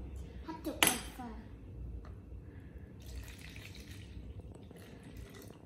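Water poured from a tap or container for a bubble-inside-a-bubble kids' science experiment at home, with a short splashing burst near the start, then a soft, steady trickle and light clinks of dishes or a spoon.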